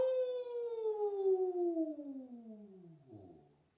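A person imitates a dog's howl during a stretch class, one long sustained vocal note that slowly falls in pitch, clear and close, then trails off.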